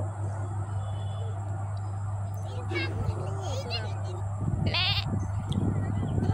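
A goat bleats in a village setting, with short wavering cries partway through and again near the end, rising over a steady background hum and nearby voices.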